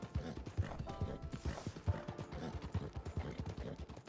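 Rapid, steady hoofbeats of a galloping horse in Red Dead Redemption 2, loud and close, with a faint musical background behind the rhythmic thuds.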